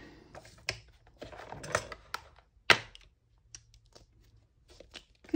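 Stamp set packaging being opened, with crinkles, tears and small plastic clicks in short separate bursts, close and fairly quiet, and a sharp rip near the middle.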